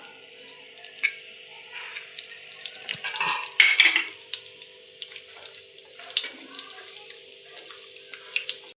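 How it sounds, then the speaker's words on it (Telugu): Seasoning seeds tipped into hot oil for a flat-bean curry crackle and sizzle, swelling into a denser burst midway before settling into lighter spitting and occasional stirring clicks, close by, with no voices. "ఇప్పుడు పోపు గింజలు వేసుకోవాలి"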